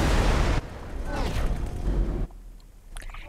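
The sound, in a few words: explosion in the video game X4: Foundations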